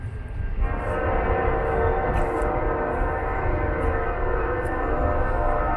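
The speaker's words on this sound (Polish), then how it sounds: "nawet mamy nieopodal pociąg, który sobie przejeżdża po torach, które są 50 metrów stąd" Train rolling along tracks about fifty metres away beside a railway station at an open-air museum in the USA, a steady loud rumble with a horn sounding throughout.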